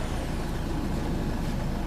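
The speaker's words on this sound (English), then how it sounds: "So I'll just turn the car on and you can hear it all going." A car fitted with push/pull brake and accelerator hand controls idles with a steady, close engine hum and no other sounds over it.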